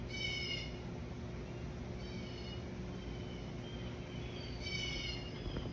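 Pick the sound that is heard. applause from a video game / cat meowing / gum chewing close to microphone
cat meowing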